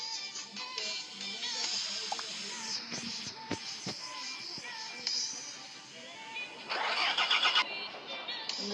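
A truck engine starting in a truck simulator game, a steady mechanical drone that swells into a louder, rougher rumble near the end, with a voice talking faintly underneath.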